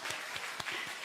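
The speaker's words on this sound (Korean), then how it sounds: "박수 한번 쳐주세요." A congregation at a Sunday afternoon church service claps, a brief patter of applause with several distinct clap peaks at moderate, slightly distant loudness.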